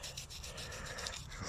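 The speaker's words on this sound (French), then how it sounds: "Après avoir mis le produit, je frotte les deux côtés." A toothbrush with cleaner scrubs the inside of a Dometic fridge, giving soft, quiet rhythmic bristle rubbing in short repeated strokes, close by.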